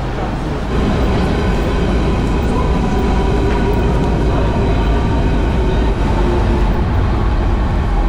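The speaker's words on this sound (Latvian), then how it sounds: "kas ir divstāvīgais vilciens." A double-decker train in Berlin rumbles past close by, a loud, continuous roar of wheels and carriage noise that stays steady throughout, with no clear voices above it.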